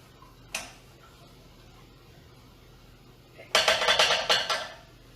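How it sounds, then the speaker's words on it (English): A spoon stirring vegetables in a pan for rice pilaf, one lone clink followed after a pause by a rapid burst of scraping, clattering strokes close up. "So give it a few stirs."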